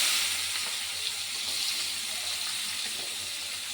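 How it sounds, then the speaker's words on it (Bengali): Onion, cinnamon and cardamom fry in hot oil in a wok, giving a steady, close, even sizzle and hiss that runs throughout without a break, with no talking. "কড়াতে তেল রয়েছে, এতে আমি দেবো দারচিনি আর একটা এলাচ, এতে দেবো পেঁয়াজ"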